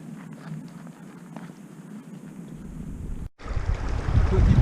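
Steady rushing water from a stream beside a hiking trail in the Alps near the Cabane d'Orny, a continuous broadband wash that swells louder near the end after a brief dropout.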